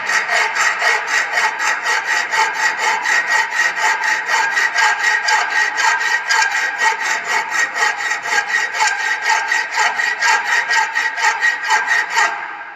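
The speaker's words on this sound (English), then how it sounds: "The other side is a same process is filing." A hand file rasps across a metal workpiece being shaped for a V weld joint in a welding shop, with steady, rapid, evenly paced strokes that are loud and close throughout.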